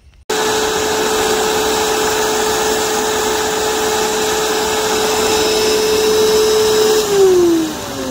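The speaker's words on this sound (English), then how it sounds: "So now I got the vacuum on steady, sucking out any residual." A loud, steady vacuum drones continuously as it sucks residual water out of a pipe, holding an even roaring whine before its pitch drops slightly near the end.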